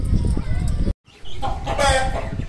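Chickens in a bird enclosure clucking and squawking close by, with a brief cut of silence midway before the noisy clucking resumes more intensely.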